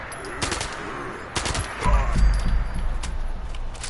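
Elder's Mark rifle in the game Fallout 76 fires a quick series of sharp shots, several distinct cracks followed by a heavier burst of impacts, with speech mixed in.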